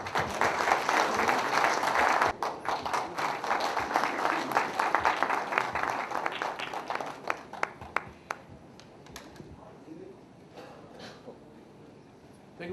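A banquet audience honouring a Lions Club member breaks into loud, dense applause that holds steady for several seconds, then thins out into scattered individual claps and fades toward quiet.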